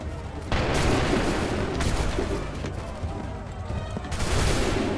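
Musket volleys crack out in Assassin's Creed 3, a heavy ragged fusillade of overlapping shots and booms in several dense bursts, with shouted battle voices mixed underneath.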